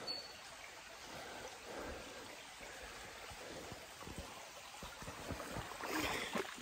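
A creek on Koh Lanta flows steadily, a broadband watery rush with scattered trickling splashes that grows a little louder near the end, heard alone without voices.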